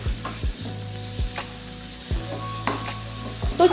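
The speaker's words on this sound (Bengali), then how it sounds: "চলো এটা একটু ভাজা ভাজা হোক" Mixed vegetables with drumsticks sizzle steadily in a hot pan with oil and spices. Several sharp scraping stirs of a spatula cut through the continuous frying hiss, with no talking.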